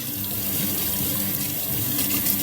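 Tap water runs steadily into a kitchen sink while dishes are washed, a constant close hiss and splash throughout with no talking.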